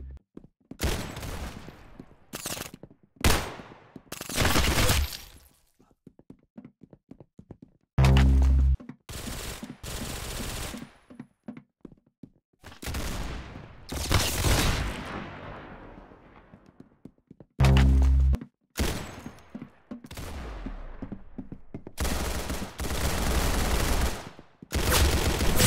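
Rapid gunfire in the shooter game Arsenal, loud bursts of automatic fire and single shots repeating in clusters across the whole stretch, with heavy low booms and brief quiet gaps between volleys.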